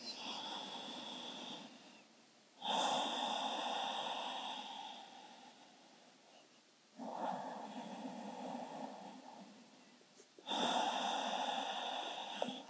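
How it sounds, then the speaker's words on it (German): Slow, deep breaths during a relaxed yoga pose, three long soft airy exhales and inhales spaced evenly, close and quiet with no talking. "wir bleiben noch für 3 tiefe Atemzüge"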